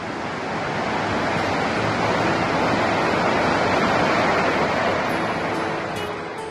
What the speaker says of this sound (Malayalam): കേരള കർണാടക അതിർത്തിയിൽ കാഞ്ഞിരക്കൊലയിൽ സ്ഥിതി ചെയ്യുന്ന അതിമനോഹരമായ വെള്ളച്ചാട്ടമാണ് അളകാപുരി